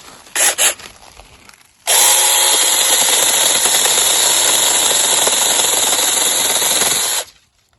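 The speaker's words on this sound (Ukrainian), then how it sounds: "Зараз я хочу спробувати перепиляти, щоб мені удобно не тупором рубати, а спробую нашою такою пилою." Makita cordless battery chainsaw cutting through a wood branch: two short revs, then a loud, sustained whining cut lasting about five seconds before the motor stops abruptly; close and dominant, no talking.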